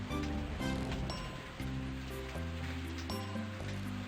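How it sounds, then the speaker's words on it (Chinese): Heavy rain falls in a children's animated story, a soft steady patter and hiss of drops on surfaces, fairly quiet and continuous beneath light background music. "一天，天上下起了大雨，"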